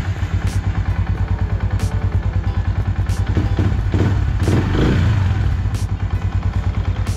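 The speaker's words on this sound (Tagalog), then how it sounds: "Try natin start yung motor." A Yamaha Sniper 150 motorcycle engine runs close by with a steady, rapid idle, briefly rising in a rev midway before settling back to a loud, even putter.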